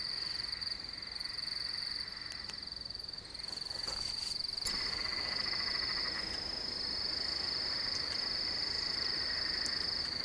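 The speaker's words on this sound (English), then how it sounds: "And very loud frogs." Loud, dense chorus of frogs croaking nonstop at night, with insects buzzing steadily alongside in an outdoor setting, in kangaroo and possum country.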